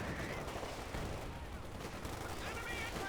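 Steady machine gun fire from Rangers in the Company of Heroes 2 strategy game, heard as a continuous rattling stream of shots under a voice talking.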